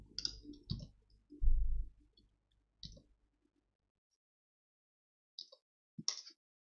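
A few sharp, close mouse clicks come singly and in small clusters, set among low thumps and long silent gaps while working at a computer on Git commands.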